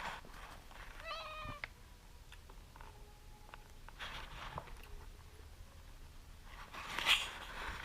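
A pet cat named Reggie meows indoors, a short stepped meow early on followed by a quieter drawn-out one, faint against low room noise with no talking.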